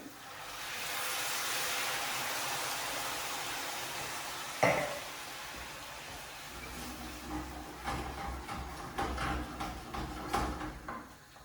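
White wine cooks off in a risotto alla milanese as it is stirred, a soft sizzling hiss in the pan with a sharp clack midway and then repeated scraping, clicking stirring strokes.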